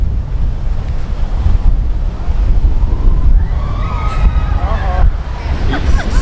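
Large Atlantic waves crash and wash onto an Icelandic beach known for sneaker waves, a heavy, continuous surf roar mixed with strong wind buffeting the microphone and a few faint high streaks above.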